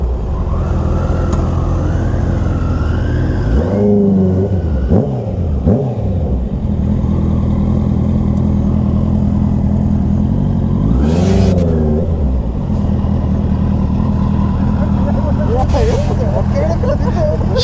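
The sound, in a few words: superbike motorcycle engine revving during night ride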